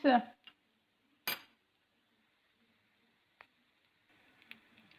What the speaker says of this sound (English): I'm going to turn with this spoon into the other side